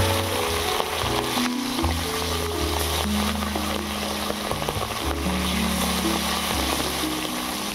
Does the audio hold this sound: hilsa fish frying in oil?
yes